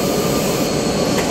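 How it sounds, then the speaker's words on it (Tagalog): An airplane passes overhead, a loud steady jet roar filling the short stretch without any talk. "Yan, may dumang pang aeroplano"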